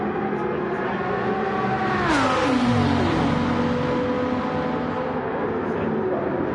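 A race car with a Turismo engine swap in Gran Turismo 7 drones loudly and continuously, its engine note sweeping sharply downward partway through and then holding a steady, rich tone.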